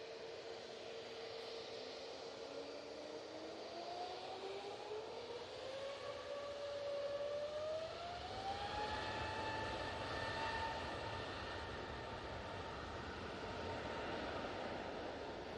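A Hainan Airlines Airbus A380 passes near Heald Green by Manchester Airport, a distant jet roar with a slowly rising whine that swells and holds steady, faint and alone.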